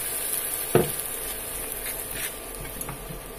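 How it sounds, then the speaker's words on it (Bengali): Tomato is stirred into browned onions frying in a pan for pizza sauce, giving a steady close sizzle with one distinct spoon knock early on and soft scraping after. "টমেটোটা দিয়ে একটু নেড়ে নেব"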